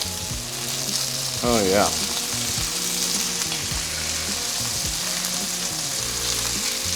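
Chicken for a creamy garlic dish sizzles loudly in a pan, a steady close frying crackle with occasional scraping of the pieces, and a brief spoken remark partway through.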